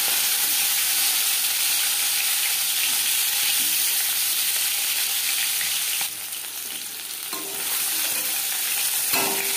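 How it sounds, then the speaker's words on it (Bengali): Marinated fish fries in hot mustard oil, a loud, dense, close-up sizzle and hiss that runs throughout, dipping briefly in the middle and flaring again with sharp spits and pops near the end. "এবার দিয়ে দেব ম্যারিনেট করে রাখা মাছ।"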